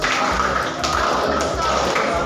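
Classroom of students doing a rhythmic patterned clap together, a quick sequence of sharp taps and thuds in a steady beat, fairly loud and close with a hum of room noise.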